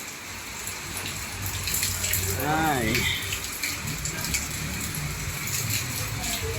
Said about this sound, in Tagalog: Ayan, umulan pa.